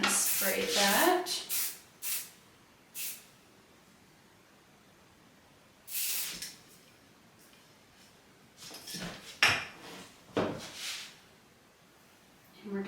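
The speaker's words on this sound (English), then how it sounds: "I'm going to spray that." Hairspray hisses onto hair in short bursts of varying length, several quick sprays clustered at the start and more a few seconds apart, close and fairly quiet, with gentle rustling between them.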